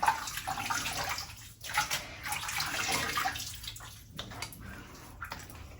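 Tap water runs steadily while a man rinses his face after a safety-razor shave, with splashing that briefly breaks off and resumes at close range. No talking.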